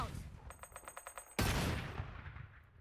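A grenade explodes in Fallout 4 with a sudden loud burst that decays into a rumbling tail, after a rapid series of short rhythmic clicks or beeps just before it.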